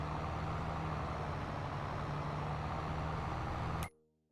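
A small tractor engine idles steadily in Farming Simulator 22, a continuous loud drone with a low hum that cuts off abruptly near the end.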